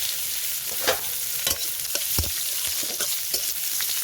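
Dried red chilies, chopped onion and garlic fry in hot oil in a kadai, giving a loud, steady sizzle broken by a few sharp stirring clinks and scrapes.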